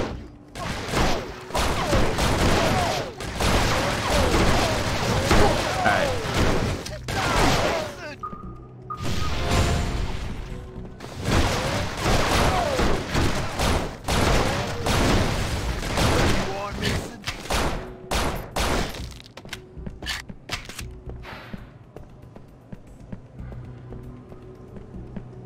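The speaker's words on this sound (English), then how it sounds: "we have reports of gunfire from the entrance" Gunfire and booms from the riot-police shooter game Urban Chaos: Riot Response, bursts of shots, impacts and whooshes through much of the stretch, with a player talking over the action.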